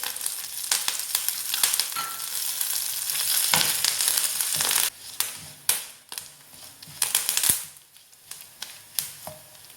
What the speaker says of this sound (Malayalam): ബ്രൗൺ കളറാകുന്നത് വരെ വറുക്കണം. ഇപ്പം ലൈറ്റ് ബ്രൗൺ ആയി. ഞാനതിലേക്ക് കറിവേപ്പില കൂടി ചേർക്കുന്നുണ്ട്.